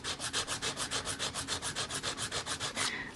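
A nail file works back and forth across the free edge of a fingernail being shaped into a ballerina, about fifteen quick, even rasping strokes in steady rhythm, close and clear with no talk.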